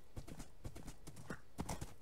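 Hooves of a horse in a video game clop in quick irregular beats, fairly faint and close, with a brief snort mixed in.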